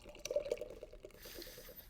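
Eichbaum Löwe vom Rhein hefeweizen beer is poured into a glass, giving a short burst of liquid splashing and gurgling that settles into a softer fizzing hiss.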